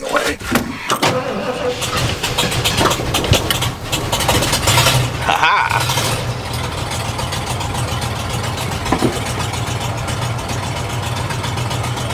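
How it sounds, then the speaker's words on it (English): A vintage RV engine starts in cold winter weather, cranking briefly before catching and settling into a steady, rumbling idle that runs on continuously at close range. "First thing I want to try is starting it."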